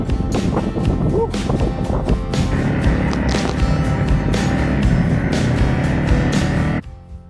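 A motorcycle rides the rough Old Coach Road from St John's in the Vale, its engine a close, steady drone mixed with rattling and crunching over the track, ending abruptly near the end.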